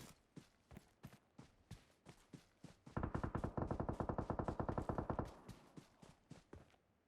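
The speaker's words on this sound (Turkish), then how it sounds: "Karşıda da çatışma var." Distant gunfire in the mobile battle game PUBG Mobile on Erangel: quiet, regular single shots, then a rapid automatic burst of about two seconds before the spaced shots resume, all faint and far off with no talk.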